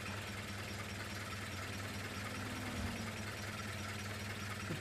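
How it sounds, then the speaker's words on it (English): A tractor engine in the video game FiveM runs steadily at speed with a constant low droning hum and a faint pitch shift partway through, no talking over it. "that tractor goes a lot faster than what I thought."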